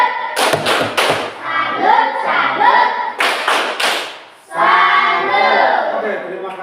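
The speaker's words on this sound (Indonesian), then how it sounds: "tepuk salut untuk kelompok" A classroom claps for a student group, with two bursts of quick hand claps separated by chatter and voices, then talk continues after the last burst.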